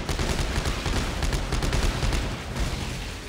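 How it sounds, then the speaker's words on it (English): A plasma cutter weapon fires in Dead Space 3 in a dense, loud stream of rapid crackling shots with blasts layered over one another, continuous for several seconds. "Was that just the plasma cutter?"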